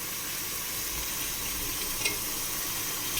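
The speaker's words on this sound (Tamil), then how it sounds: "இந்த நேரத்தில் நம்ம தக்காளி தள்ள போகிறோம் தள்ளுங்க தக்காளியை" Tomatoes and green chillies fry and get stirred in a pan for camel gravy, a constant close hissing sizzle with occasional soft scraping from the stirring and no voices.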